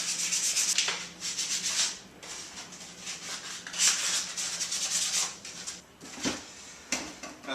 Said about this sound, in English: Okay, let's go ahead and start sanding.